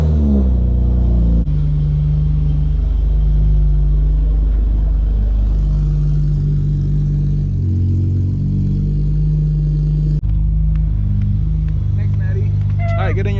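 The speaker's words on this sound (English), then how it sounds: "take it for a test drive" An Acura TL sedan on coilover suspension driving on a test run, its engine a steady close, loud low rumble and hum that shifts pitch as it accelerates, with voices talking over it.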